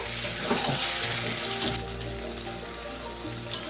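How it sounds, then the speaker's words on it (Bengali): Chicken and potato pieces fry in hot oil in a pan, giving a steady close sizzle that changes tone partway through, with brief stirring scrapes and no talk. "আলুটা দিয়েও 2 মিনিট কষিয়ে নেব"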